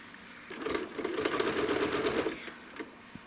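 A sewing machine runs in one steady burst of about two seconds, stitching quilt pieces with thin thread at a short 2.4 mm piecing stitch. The motor hum and rapid needle clatter are close and clear, with no talk.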